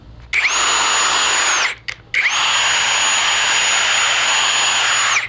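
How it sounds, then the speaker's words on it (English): A powerful cordless impact wrench whines at high speed in two long bursts, separated by a short pause with a brief blip in between. "This is one strong impact wrench."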